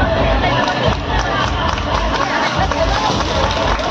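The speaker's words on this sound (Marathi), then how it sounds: "चला पटकन जोरदार टाळ्या" Loud, dense applause and crowd hubbub from an audience at a Home Minister community program in Kuruli, Pune, sustained throughout with a busy, noisy texture.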